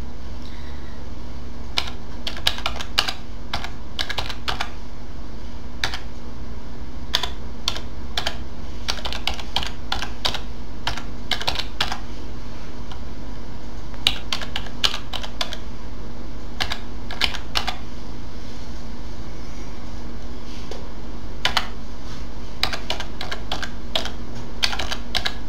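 Keys on a computer keyboard clatter in quick, irregular bursts as domain names are typed, close and steady with short pauses between runs, over a low constant electrical hum and no talking.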